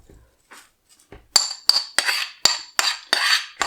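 A metal spoon scraping and knocking against a bowl while moving wild garlic butter onto cling film, a series of about eight close, bright clinks and scrapes in a steady rhythm.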